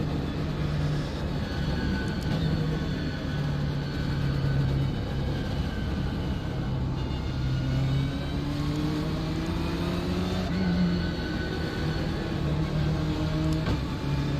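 BMW M8 race car in iRacing at Watkins Glen, a continuous engine drone with gliding pitch as it shifts and accelerates, steady and unbroken with no talking.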